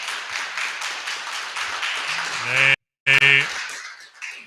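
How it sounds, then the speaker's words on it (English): Crowd at the Artesian in Regina clapping in a steady, dense patter, with a short gap of silence and some tonal, voice-like sounds mixed in near the end. "They love to clap, and we're happy to hear them"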